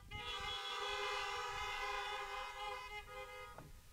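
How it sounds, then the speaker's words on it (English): Car horns at a drive-in Easter church service blare together in one long, loud, sustained honk that holds for several seconds, then cuts off. "So why don't you give me a honk as a thank you for Bill."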